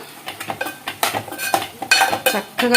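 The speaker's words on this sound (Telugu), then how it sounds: "కలుపుకుందామండి ఇప్పుడు చక్కగా" A spoon scrapes and clinks repeatedly against a pot while stirring and mixing eggplant curry, producing irregular, close-up metallic taps and scrapes with no talking.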